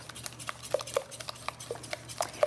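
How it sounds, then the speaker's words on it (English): Eggs whisked into flour and milk for a berry Dutch baby oven pancake batter, heard as quiet, quick, rhythmic clinks and taps of a whisk against the bowl with no talking. "So I'm just gonna whisk these up for a minute, get these all incorporated into the flour and the milk."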